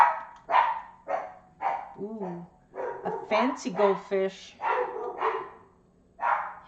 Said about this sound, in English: Barking at the neighbors.